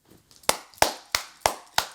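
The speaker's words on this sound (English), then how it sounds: "Hand clap." Five sharp hand claps, close and evenly spaced, ring out alone in a quiet room.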